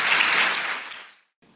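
A church congregation claps during a worship service, a loud burst of applause that tapers off over about a second, then briefly cuts to silence before faint room sound returns.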